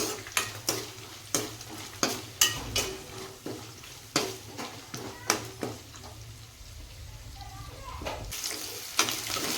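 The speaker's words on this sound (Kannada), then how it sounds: "ಇದನ್ನು ಚೆನ್ನಾಗಿ ಎಣ್ಣೆಯಲ್ಲಿ ಫ್ರೈ ಆಗಲಿ." Long-cut green chillies frying in oil for palak rice, a steady sizzle under repeated sharp clinks and scrapes of a spoon stirring against the pan, with occasional speech.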